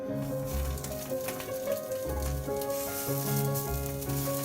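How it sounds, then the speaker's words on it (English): Whole sausages sizzle and crackle steadily in a hot pan as they brown, a continuous close frying hiss over background music. "So I'm gonna take my sausages and I'm gonna brown them."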